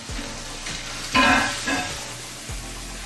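A chuck roast sears in a pan with a moderate sizzle and hiss. The sound swells briefly when the meat is moved, with soft thumps and scrapes of handling. No one speaks.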